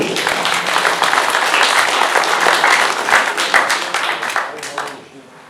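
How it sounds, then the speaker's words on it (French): Loud audience applause at a conference of a French anti-high-speed-rail collective in Le Beausset, sustained dense clapping with some voices in it, tapering off quickly at the end. "On peut les applaudir."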